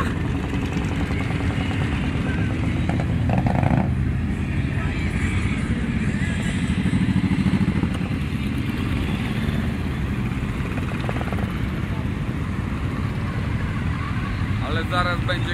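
Motorcycles at the BikeFest Brest 2010 bike festival rumble steadily in a dense crowd, engines running and idling through the whole stretch, with chatter and voices mixed in over the continuous vehicle noise.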